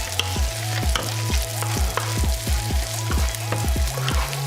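Scrambled eggs with spinach sizzle steadily in a frying pan while a utensil stirs and scrapes in regular close strokes, with no talking.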